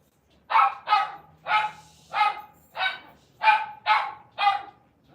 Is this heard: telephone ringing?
no